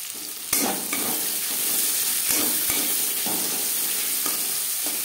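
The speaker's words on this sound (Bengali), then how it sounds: "হালকা করে পেঁয়াজ ভেজে নেব।" Large chopped onions fry lightly in oil in a pan, a steady close sizzle broken by several sharp utensil clinks and stirring scrapes, with no voices.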